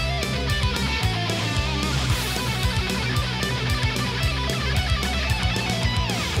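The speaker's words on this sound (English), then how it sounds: "So I came up with a pentatonic triplet pattern that just sounds like this." Distorted electric guitar plays a fast pentatonic triplet lick on one string, with rapid repeating note groups over a thick sustained tone, loud and alone.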